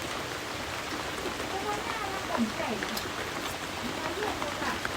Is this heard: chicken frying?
no